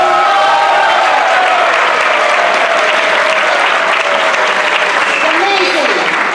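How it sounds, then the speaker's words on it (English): Loud, sustained audience applause fills an award gala honoring a lifetime achievement recipient, steady dense clapping from a large crowd with a voice briefly audible near the end. "Can we hear a big round of applause?"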